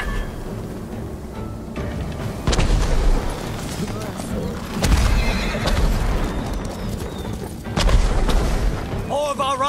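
Horses whinny amid the battle of a feudal Japanese village raid in the samurai video game Ghost of Tsushima, with repeated booming impacts, dense clatter and continuous loud combat noise throughout.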